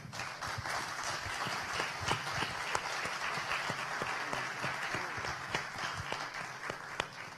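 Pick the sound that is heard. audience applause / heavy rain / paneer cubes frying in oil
audience applause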